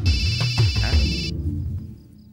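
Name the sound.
mobile phone ringtone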